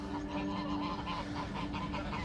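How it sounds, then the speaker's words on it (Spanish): Muscovy ducks give repeated soft, raspy honking calls at moderate distance in an outdoor setting, with quiet ambient background and no talking. "Es un pato mudo."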